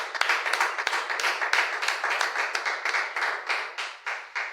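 A church congregation clapping to acclaim Jesus, fast and steady with many hands together, a rhythmic pulsing applause filling the room, with no talking over it.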